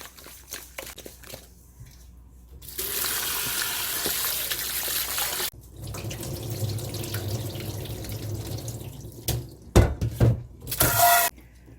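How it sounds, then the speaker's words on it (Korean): Raw oysters rinsed by hand in a sink, with running tap water splashing and swishing steadily through the middle stretch, then quieter dripping and handling noises near the end. "이렇게 해서 꼭 3번 정도는 헹궈 주셔야 돼요."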